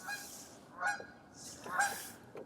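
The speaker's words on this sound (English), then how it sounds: "those geese are pretty serious back there" Geese honk in two quick bursts of nasal calls, somewhat distant, with quiet background between them.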